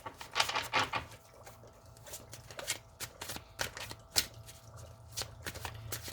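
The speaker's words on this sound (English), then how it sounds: "I feel like I need to shuffle this one more time." A deck of tarot cards is shuffled repeatedly, with quick riffling bursts and soft papery taps and slides, close up and fairly quiet.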